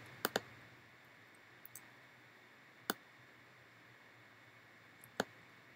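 Mouse buttons clicked while working in 3ds Max 2013 software on a computer: a few sharp, isolated clicks spaced irregularly over a quiet background hiss, with no talking.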